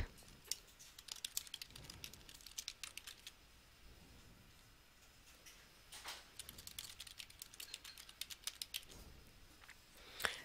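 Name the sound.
typing a comment on a computer keyboard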